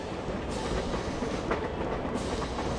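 A train rumbling in the video game A Boy and His Blob, a continuous heavy low roar with a steady clattering texture that stays loud and constant throughout, with no voices.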